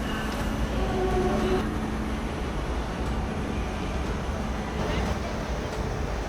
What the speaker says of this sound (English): And there it is, arriving slightly late from Figueres Vilafant, our train for today, a Siemens Velaro